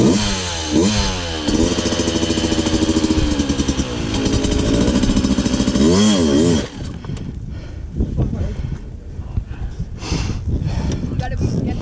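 A motorcycle engine revs hard and loud for several seconds while climbing a waterfall trail, then drops to a rougher, choppier idle with clatter; voices talk over the engine throughout.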